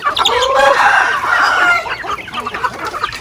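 Chickens on a farm cluck loudly and close by, with a rooster's crow rising over the flock, followed by scattered shorter clucks.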